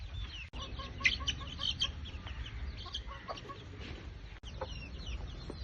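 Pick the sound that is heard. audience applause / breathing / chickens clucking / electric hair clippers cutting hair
chickens clucking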